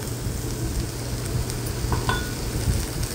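Crushed sandge mixed into fried spices and fresh coriander is stirred in a pan, giving a steady soft sizzle with a few scraping clinks of the spoon against the pan.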